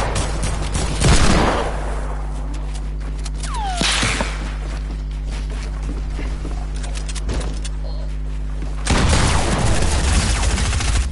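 Gunfire in a shooting video game, bursts of rapid shots at the start and end with scattered single cracks between them, sounding loud and close over a steady low hum.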